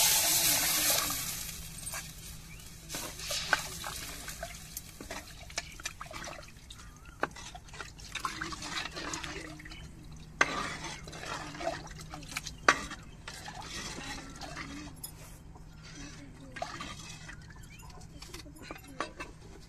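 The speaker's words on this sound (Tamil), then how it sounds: "இப்ப புளி தண்ணியை சேர்த்துக்கிடுவோம்." Tamarind water is added to a simmering fish curry made with paarai fish, giving scattered splashes and drips with small liquid trickles in between, fairly quiet and close.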